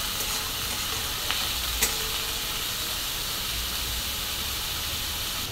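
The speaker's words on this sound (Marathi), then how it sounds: "तर मी टमाटो टाकून घेतलेलं आहे बघा आणि छान असं परतून घेणार आहे." Tomatoes sauté in a pan for egg bhurji with a steady, close sizzle and hiss that holds throughout, broken only by a couple of faint clicks from stirring.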